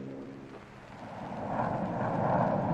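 Military aircraft of the 1965 US Air Force in Vietnam, fighter planes passing overhead, with a broad engine roar that swells louder over the last half and stays steady with no voices.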